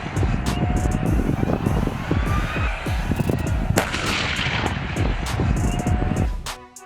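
Heavy military weapons including an M1 Abrams tank fire in a dense series of loud booms and sharp cracks, overlapping with a rumbling background, with no talking.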